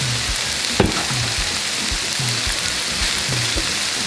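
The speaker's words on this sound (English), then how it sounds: "You can lower the heat right now, maybe to low to medium, and you give it a nice stir" Festive rice with vegetables stir-fried in a hot pan, a steady close sizzle broken by regular scraping strokes of the spatula, with no talk.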